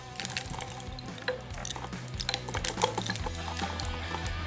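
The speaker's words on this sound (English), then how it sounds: "It all clinks together when it blows." Homemade wind chime of assorted hanging pieces clinking together as if stirred by wind, a busy run of irregular metallic taps and rattles over a low hum, fairly close and continuous.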